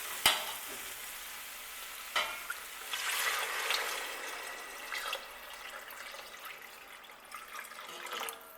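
Water being poured into a pot of potato soup on the stove, a continuous splashing, sizzling rush that swells and fades in waves, with a few sharp clanks of the pot, and no talk.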